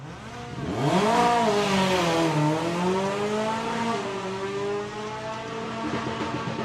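Volkswagen Mark 1 Golf convertible drag car at Santa Pod Summer Nationals eliminations, engine revving hard with a rising roar that dips and swells again, loud and close.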